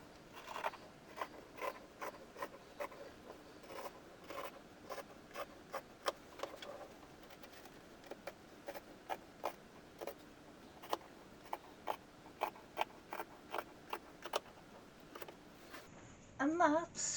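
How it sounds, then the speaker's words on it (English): Scissors cutting a paper peg bag pattern, a steady run of crisp close snips repeating at an even pace on a quiet background, with a brief rustle at the end. "So let's get my scissors now."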